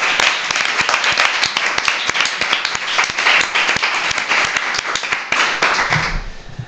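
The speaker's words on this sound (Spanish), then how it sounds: "Recibimos con un fuerte aplauso a Rodrigo Cortés" Studio audience applause welcoming film director Rodrigo Cortés, a loud, dense burst of clapping that holds steady for several seconds before cutting off abruptly near the end.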